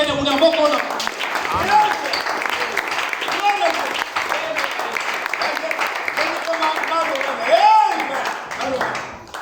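A church congregation applauds and cheers in a dense, sustained wash of clapping mixed with voices, loud and continuous throughout with a couple of swelling peaks.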